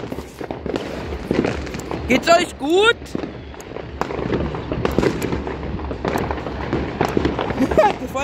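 New Year's Eve firecrackers and fireworks bang repeatedly around a group of people, with sharp pops, whistling rockets rising and crackling bursts mixed into steady chatter and shouting.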